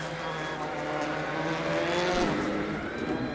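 A rally car sits at the start line of a snowy stage, its engine revving steadily and loudly up close with a rising, roaring pitch.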